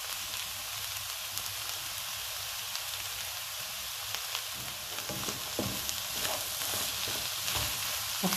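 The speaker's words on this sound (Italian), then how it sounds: "Lascio cuocere per 5-6 minuti senza coperchio." Aubergines fry in oil over high heat with a continuous soft sizzle, and sharper crackles and pops grow more frequent toward the end.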